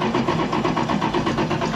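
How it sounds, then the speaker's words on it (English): A carbureted 1968 Dodge Charger engine cranks over, a rapid, rhythmic churning of the starter at close range, steady and unbroken without catching. "Beginning engine starting sequence now."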